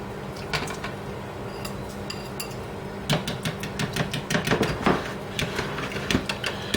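Eggs and milk being transferred into a bigger bowl while making scrambled eggs, with clinks and knocks of utensils against dishes, sparse at first and then a busier run of close taps and scrapes, no talk.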